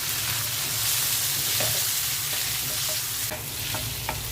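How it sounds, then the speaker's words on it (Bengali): Ridge gourd fries with salt, cumin and green chillies in a pan, giving a loud, steady sizzle with occasional stirring scrapes and taps up close, with no one talking. "চিচিঙ্গাটা ভাজতে বেশি সময় লাগবে না, অল্প কিছুক্ষণ নেড়ে চেড়ে তারপর নামিয়ে নিব"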